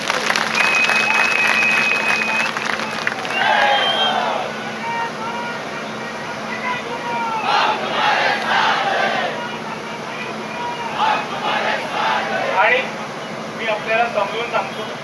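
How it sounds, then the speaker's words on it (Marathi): A protest rally crowd in Chhatrapati Sambhajinagar claps and cheers, a sustained roar of applause with bursts of shouting voices rising and falling over it, loud and close throughout. "आपल्या सर्वांसाठी एकदा जोरदार टाळ्यांचा हात"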